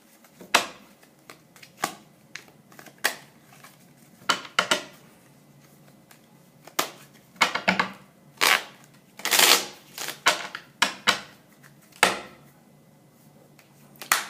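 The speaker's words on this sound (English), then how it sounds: "we shuffle the deck" A deck of playing cards is shuffled by hand during a card trick, giving scattered short riffling bursts and snaps at uneven intervals, close and fairly quiet, with no talking.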